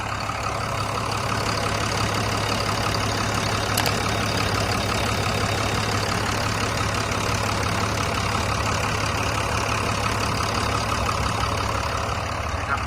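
A Cummins diesel engine on a Tadano GR-160N-1 16-ton crane truck idling steadily for a long stretch, a constant low rumble with a faint knocking texture, close and loud, with no talking.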